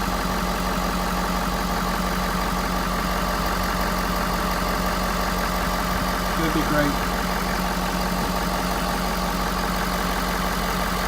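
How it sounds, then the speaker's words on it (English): A 2013 Ford F-250 diesel truck idles steadily with a constant deep rattling drone, close and unbroken, while someone speaks briefly over it. "excuse the noise, diesels, it sounds so lovely."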